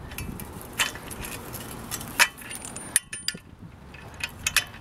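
A cheap DIY press tool forces a bicycle headset cup into the frame, giving scattered metallic clicks, ticks and creaks against steady outdoor wind noise, with one sharper clack near the middle and no talk.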